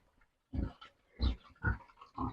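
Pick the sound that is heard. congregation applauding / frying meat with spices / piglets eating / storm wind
piglets eating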